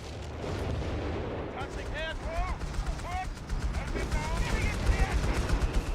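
A Bishop artillery barrage in the war game Foxhole, with heavy, rumbling blasts and rolling booms layered over constant battlefield noise, mixed with sharp whistling streaks and repeated impacts growing denser toward the end, under a voice talking.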